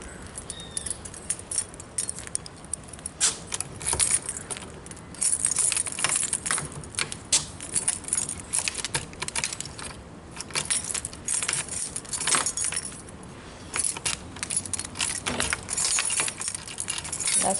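Two keys for a security door lock jangle and clink continuously, close and fairly loud, with repeated sharp metallic rattles and no talking over them.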